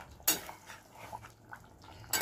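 A metal lid set onto a cooking pot of simmering potato and pointed gourd curry, with a sharp clank at the start and another near the end over a faint bubbling hiss.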